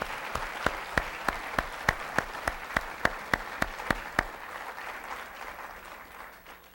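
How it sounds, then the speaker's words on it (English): Evenly spaced hand claps ring out about a dozen times, steady and rhythmic, then stop, leaving a soft murmuring room. "give her a round of applause for the fine job she's done"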